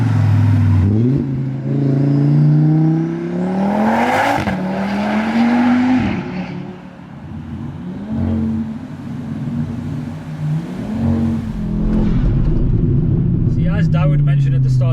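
A VW MK6 Golf R fitted with a 500bhp 2.5L Audi RS3 five-cylinder engine revs hard and accelerates close by, its loud engine note climbing and falling through repeated surges over about fifteen seconds.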